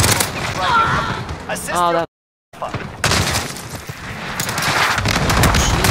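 Rapid bursts of automatic gunfire from a Call of Duty Modern Warfare multiplayer match, loud and continuous apart from a short silent gap, with someone talking over the shots.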